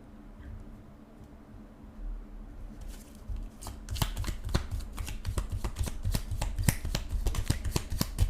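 Tarot cards shuffled by hand, quiet rustling at first, then a dense run of crisp riffling snaps and slaps growing louder up close, with no speech.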